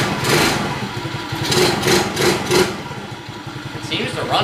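Engine of a cheap garage-sale ATV running steadily at close range, a continuous rough idle with faint pulsing, while someone speaks over it.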